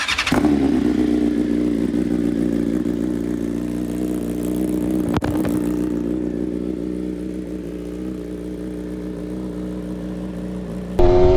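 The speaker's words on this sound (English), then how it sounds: "let's get her pulled out and get a cold start going" A BMW M1000RR motorcycle has already fired up from cold and idles steadily, loud and close. Its high, even idle holds for about eleven seconds, broken by a brief blip midway, then a sharp rise in engine noise right at the end.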